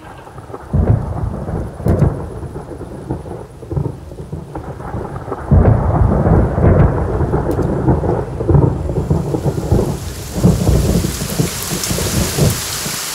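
A thunderstorm brings heavy rain pounding on surfaces, with deep rumbling thunder rolling through repeatedly and swelling louder midway, loud and close throughout with no voices.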